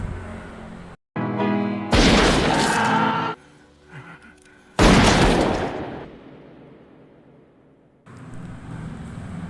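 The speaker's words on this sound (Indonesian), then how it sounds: "Dia pun menembak Quilty di sini dan akhirnya Quilty pun tewas." Loud gunfire in a film scene as Humbert shoots Quilty: several abrupt, heavy bursts with quiet gaps between them, each decaying into a noisy tail, no talking.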